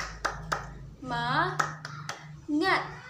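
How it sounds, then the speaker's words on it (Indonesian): A classroom of children does a rhythmic spirit clap: a few sharp, separate hand claps alternate with children's voices chanting in unison, all heard close up in a small room. "Tepuk semangat."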